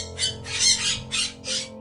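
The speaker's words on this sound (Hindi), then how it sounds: "वहां एक हरा नीला चमकीला तोता बैठा है जो इंसानों की तरह बोल रहा है।" A bright green-blue parrot gives five loud, harsh squawks in quick succession, close by and alone.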